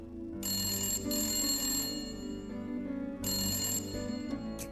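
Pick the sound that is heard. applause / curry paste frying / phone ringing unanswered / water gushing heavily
phone ringing unanswered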